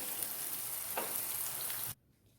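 Steady, close sizzling of brinjal frying in hot oil, with a faint clink partway through, cutting off abruptly near the end.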